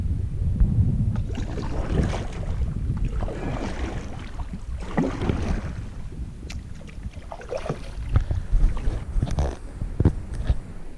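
Canoe paddling on the Hells Bay trail in the Everglades, soft irregular water strokes and hull knocks close by, mixed with gusty wind buffeting the microphone, no talking.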